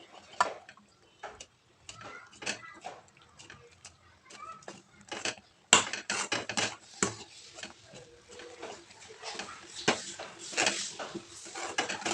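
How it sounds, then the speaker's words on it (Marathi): Roasted semolina is stirred into a pot of boiling water for upma, giving rapid clicking and scraping of a spoon against the pot, soft and close, with a few louder knocks and busier stirring toward the end. "भाजलेला जो रवा आहे तो आपल्याला त्या पाण्यामध्ये हाटून घ्यायचा आहे"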